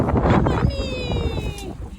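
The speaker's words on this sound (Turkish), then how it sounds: "O rüzgar geliyor değil mi Azat?" Gusts of wind buffet the microphone in a garden in rumbling bursts, then ease as a high voice speaks briefly.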